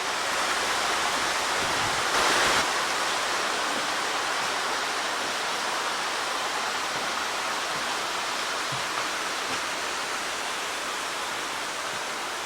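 Continuous rushing water roars as a steady broadband wash, fairly close and unbroken, with no voices.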